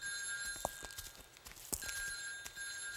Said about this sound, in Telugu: ఏమండి, ఫోన్ తీసి మాట్లాడు